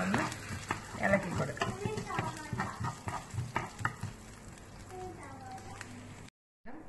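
Green chillies and curry leaves, with garlic, sizzle in hot oil in a pan for a moru curry while being stirred, giving a close steady frying hiss with scraping stir strokes.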